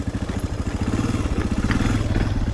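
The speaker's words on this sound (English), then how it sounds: "Even with the stock exhaust, man, I love the sound of the DR650." A Suzuki DR650 dual sport motorcycle with its stock exhaust thumps at close range, a loud, steady, rhythmic single-cylinder pulse with mechanical clatter.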